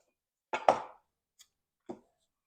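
A knife cuts a tablespoon of butter on a kitchen board: two quick close taps, a faint tick, then a final soft knock, each brief and isolated against near silence.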